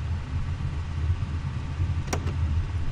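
A car engine running, a low steady rumble close by with a couple of faint clicks near the end, no talking.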